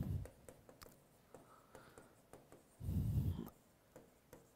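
Chalk or marker writing on a board during a maths class gives a run of quick taps and short scratchy strokes, close and fairly quiet, with a brief louder rubbing burst partway through.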